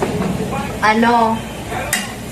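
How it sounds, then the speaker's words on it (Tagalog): Onion being sautéed in a hot pan, a steady low sizzle with stirring and a metallic scrape or clink, close by, with a brief murmur of speech partway through. "So, igigisa natin yung ating sibuyas."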